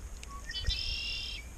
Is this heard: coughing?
no